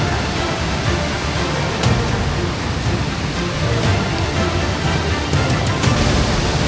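A powerful waterfall in the Vésubie valley roars close by after heavy rain, a loud, steady broadband rush of falling water with no voices.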